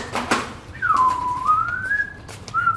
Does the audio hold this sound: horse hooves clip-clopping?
no